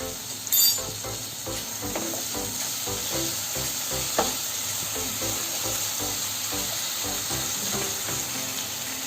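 Tomatoes with salt frying in a pan for eggplant masala, a steady close sizzle with scattered stirring scrapes and one brief louder clatter early on.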